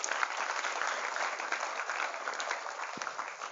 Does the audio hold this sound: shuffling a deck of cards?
no